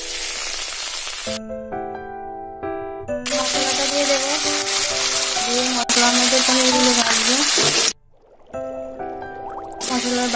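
Spiced chickpea dal with garam masala sizzles loudly and steadily in a pan, a constant frying hiss with occasional stirring, under prominent background music.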